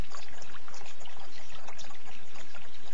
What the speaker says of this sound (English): come back to the sound of the trickling water